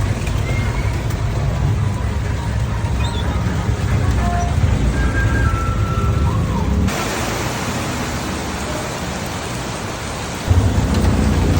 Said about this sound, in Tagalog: Grabe, lakas ng ulan ah.